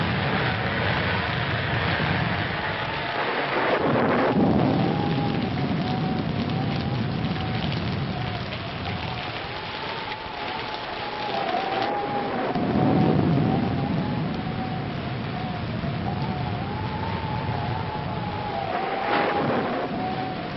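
A thunderstorm roars steadily with heavy rain and low rumbling thunder swelling and fading, continuous and fairly loud throughout, with no talk.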